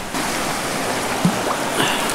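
Water poured over a campfire at a remote mountain fishing spot gives a rushing hiss and sizzle, steady and close, with a small splash partway through.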